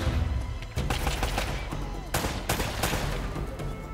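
Gunfire during a firefight in Uncharted: Drake's Fortune, an AK-style rifle popping in rapid bursts of sharp cracks over a busy low rumble, loud and close throughout.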